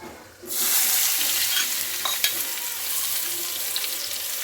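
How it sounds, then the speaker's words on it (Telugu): A sudden loud sizzle bursts out as hot oil tempering is poured into raw mango chutney, then crackles steadily with a few small clinks. "పచ్చడిలో పోపు అయితే వేసేస్తున్నాండి"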